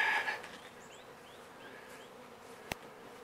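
Steady close buzzing of many honeybees from a swarm being hived, a dense drone broken by a single sharp click near the end, with no voices.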